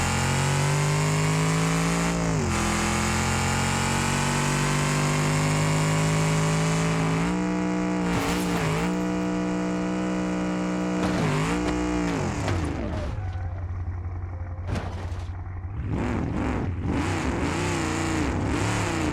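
A Dodge car engine in the BeamNG driving game revs hard and loud, with rising and falling pitch sweeps, shifts and brief drops, sustained without talk.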